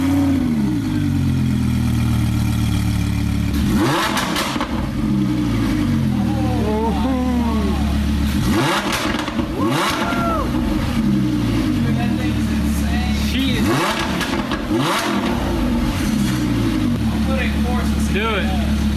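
A loud Lamborghini Huracan engine idles with a deep rumble, then revs up sharply several times in bursts, with voices talking over it.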